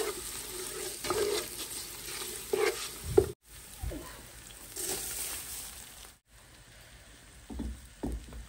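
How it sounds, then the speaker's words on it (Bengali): Spices for pulao sizzling and frying in a pan while being stirred, a soft crackling hiss with scraping strokes and two brief moments of silence. "পোলাও রান্নার মশলাটা আমি এখন কষিয়ে নিচ্ছি।"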